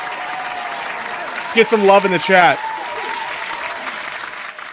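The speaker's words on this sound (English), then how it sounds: "a round of applause" Applause sound effect dropped into a livestream, a short burst of clapping and cheering lasting about a second, with someone talking over a steady background of music before and after.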